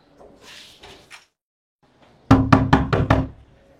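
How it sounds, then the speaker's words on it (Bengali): A hand knocks on a locked house door: five quick, loud raps in an even burst, preceded by faint rustling and movement sounds; no speech. "নক করি কোনো খবর নাই"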